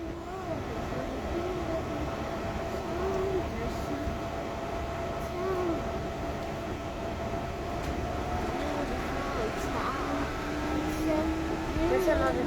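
Riding the Yurikamome line train in Tokyo between Daiba and Shimbashi, a continuous rolling hum with rising and falling motor whine and faint clatter, steady from inside the car.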